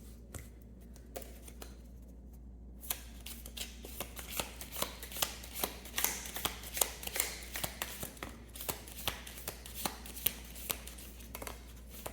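Tarot cards are shuffled by hand close up, a long run of rapid riffling and snapping bursts over a steady low hum, with no one speaking.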